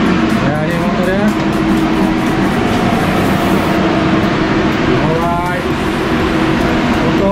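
A motorcycle engine runs on a dyno, tuned with a Datatec ECU and TuneBoss, producing a loud, steady, roaring drone. Voices can be heard talking over it throughout.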